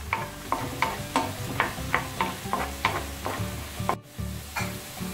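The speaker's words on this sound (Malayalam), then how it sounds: "ഇനി ഇഞ്ചിയുടെയും വെളുത്തുള്ളിയുടെയും പച്ചമണം മാറുന്നത് വരെ വഴറ്റി കൊടുക്കാം." Ginger and garlic sauté in a pan for a Kuttanadan-style beef roast: a steady sizzle broken by rhythmic spatula strokes, roughly two per second, close and clear.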